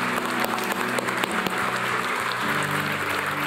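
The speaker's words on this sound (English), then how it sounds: "I'd like for us to give God a loud clap offering of our praise." Church congregation gives a loud clap offering of praise, a dense sustained wash of applause mixed with crowd noise and some background music tones, steady throughout.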